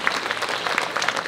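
An audience at a choir's 25th jubilee concert breaks into brief, lively clapping, a short burst of many hands close and fairly loud.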